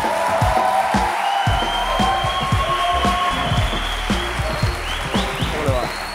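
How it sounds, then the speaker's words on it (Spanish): Studio audience of a Spanish political comedy show applauding and cheering as a guest is welcomed on, loud and busy, mixed with bright music and brief voices. "Reciban con un fuerte aplauso a Miguel Maldonado."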